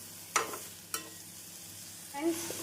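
Chopped onion and raw mango are sautéed in a pan: a soft sizzle, broken by two sharp spatula scrapes and a short stirring rasp toward the end.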